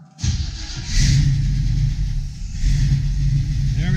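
A fuel-injected 1972 Chevy Nova SS engine cranks briefly in a cold garage and catches, then settles into a steady idle with slight revving, close by and alone.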